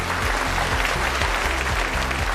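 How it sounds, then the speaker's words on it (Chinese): Audience applause welcoming two plastic surgeons onto a competition stage, steady sustained clapping under a rhythmic, pulsing music bed that continues throughout. "让我们掌声欢迎他们"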